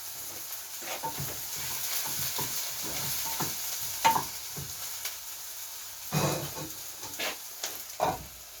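Vegetables for a Moroccan chickpea and spinach soup are stirred in a pot, a soft steady sizzle broken by a series of spoon scrapes and knocks at irregular intervals, close and fairly quiet.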